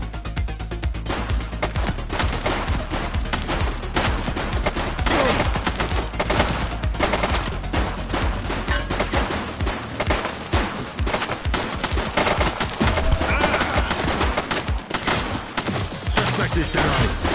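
Dense, continuous gunfire in a police shootout in the video game The Precinct: rapid bursts and overlapping shots crackle close and loud throughout, with occasional shouted voices mixed in.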